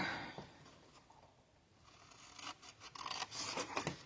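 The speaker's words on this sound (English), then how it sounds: "Now we're just going to cut in on each side" Scissors cut into a scored paper candy box, producing a series of quiet, close snipping and scraping strokes that grow busier and more rhythmic toward the end.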